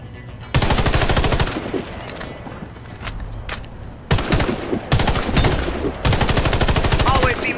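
Automatic weapon fire in the Warface video game, loud rapid bursts of gunshots separated by short pauses, with a few single shots and clicks between bursts.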